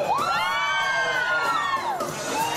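A loud crowd screams and cheers continuously at a shopping mall event, high-pitched shrieks rising and falling together, close and sustained throughout.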